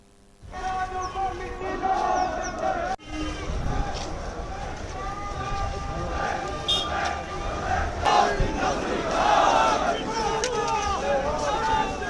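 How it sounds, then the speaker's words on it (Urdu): A crowd at a peaceful pro-Palestine Quds Day rally in Budgam chants slogans together, loud, rousing shouts rising and falling over a continuous hubbub of many voices. "اس دوران ریلی میں پرامن طریقے سے فلسطین کے حق میں نعرے بلند کیے گئے۔"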